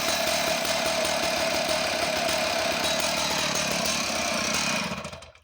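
A vintage West German Stihl 045AV 75cc professional chainsaw engine runs steadily at high revs, a loud, close, continuous buzzing drone with no voices, cutting off abruptly at the end.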